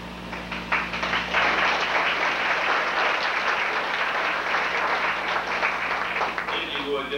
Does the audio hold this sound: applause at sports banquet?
yes